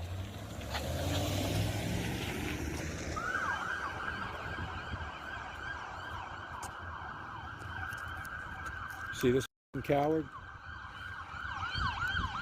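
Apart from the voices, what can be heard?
police car siren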